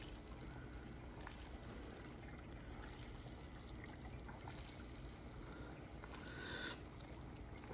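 An aquarium filter pushes water out of its top, producing a faint, steady trickling and splashing close by with no speech.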